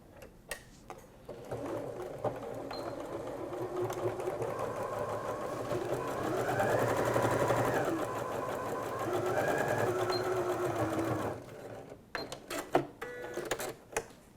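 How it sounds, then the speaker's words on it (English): Domestic sewing machine stitching quarter-inch seams down the sides of a fabric tote bag strap with interfacing, a steady close motor whir with needle clatter that speeds up in the middle, then stops among a few handling clicks. "I'm going to sew with a 1/4 inch seam allowance down each side"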